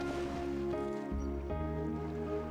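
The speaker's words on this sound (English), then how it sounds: "The tranquil sound of the waves does it to me every time." Ocean waves in the Chrono Cross video game, a soft, steady wash of surf under a continuous music track, faint and even throughout with no voices.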